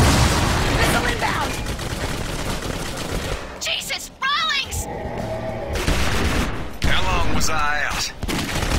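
Rapid gunfire bursts from a first-person shooter, Clive Barker's Jericho, dense and loud through the first half, then returning in bursts among game effects while voices speak over the action.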